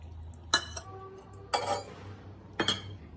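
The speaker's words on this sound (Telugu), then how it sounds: "ఒక స్టవ్ మీద వెడల్పాటి గిన్నె పెట్టుకొని ఇందులో కొంచెం వాటర్ పోసుకోవాలి" A wide metal pot is set down on a stove, with three sharp clanks of metal on metal spaced about a second apart in a quiet kitchen.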